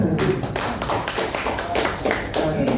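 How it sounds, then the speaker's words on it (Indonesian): A small group claps hands during a training session on handling dangerous goods, a close, loud flurry of uneven claps with voices mixed underneath. "tepuk tangan dong"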